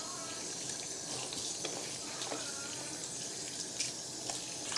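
A wig is rinsed under a steadily running tap, a continuous splashing hiss of faucet water into a sink that stays even throughout, with small spatters and no talk.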